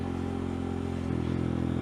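A motorcycle engine runs steadily while riding, a low droning note with harmonics that steps up slightly in pitch and loudness partway through, with no talk over it.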